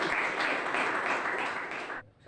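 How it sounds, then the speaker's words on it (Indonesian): Students in a classroom give a short burst of dense clapping that holds steady for about two seconds, then stops abruptly. "Berikan tepuk tangan dulu."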